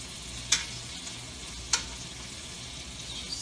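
Shrimp frying in garlic butter with white wine in a pan, second side cooking: a steady, even sizzle with two sharp little crackles, no talking.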